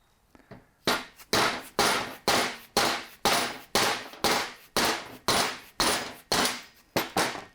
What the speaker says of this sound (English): getting our brand new dead blow hammer